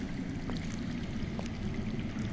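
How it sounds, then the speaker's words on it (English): Underground water flows in a steady, broad rushing wash near a cave, continuous and even throughout, with faint scattered drips or trickles and no speech. "That's water. I hear water. From underground."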